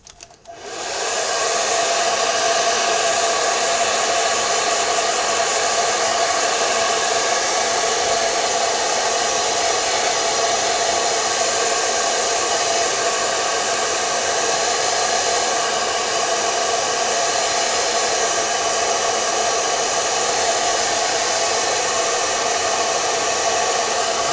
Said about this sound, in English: let's dry this off again.